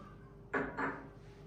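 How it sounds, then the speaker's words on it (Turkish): A spoon stirs two tablespoons of sugar into fizzy mineral water, prepared for a watermelon rind recipe: two short, close scraping and clinking bursts against a quiet background. "Bunu da güzelce karıştıralım."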